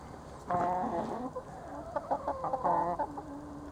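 Coucou de Rennes hens nearby give a string of short, repeated clucks, some in quick bursts and a few drawn out, with a farmyard hush behind.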